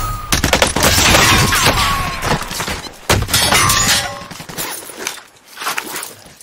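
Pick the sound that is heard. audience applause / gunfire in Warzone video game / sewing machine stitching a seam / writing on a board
gunfire in Warzone video game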